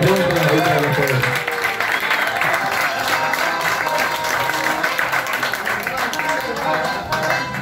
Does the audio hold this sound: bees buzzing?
no